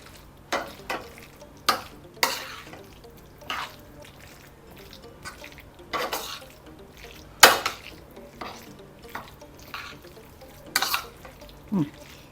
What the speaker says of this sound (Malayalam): ഇത് നല്ല ഒന്ന് മിക്സ് ചെയ്ത് വെച്ചിട്ട് മിക്സ് ചെയ്യുക